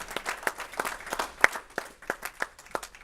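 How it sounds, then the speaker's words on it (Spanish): Scattered hand claps from a church congregation at the start of a Spanish-language sermon, a loose irregular rhythm of individual claps of moderate loudness, with no voices over it. "Vamos a darle un aplauso al Señor por ello"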